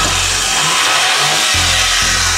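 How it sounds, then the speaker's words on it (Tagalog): Engine of a top-of-the-line minivan, heard up close with a loud continuous hum and two distinct rises in pitch as it is revved, with no voices. "Goods yung power ng makina natin."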